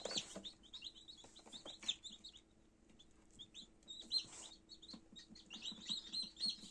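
Newly hatched chicks peep in quick, high-pitched bursts, a soft chorus of cheeps rising and falling, faint and close with light rustling underneath.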